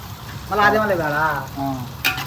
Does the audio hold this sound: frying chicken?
yes